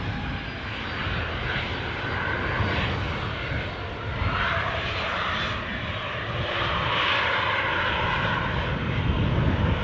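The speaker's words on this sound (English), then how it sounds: "This Ryanair outgoer to Alicante, Boeing 737." Ryanair Boeing 737 jet departing Newcastle airport for Alicante, a sustained engine roar that swells slightly louder toward the end, heard alone without voices.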